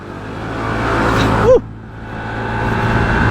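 A Honda PCX 150cc scooter accelerates on a road with a steady, fairly loud engine hum that swells toward a brief peak, then drops into a quieter, continuing drone.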